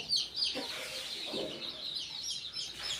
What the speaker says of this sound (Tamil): 22 குஞ்சு இருக்குது இதில்.